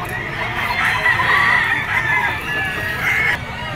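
A two-year-old white-legged Boston bloodline rooster, a bull stag, clucks steadily and close by at a crowded pet market, its calls running under constant crowd noise.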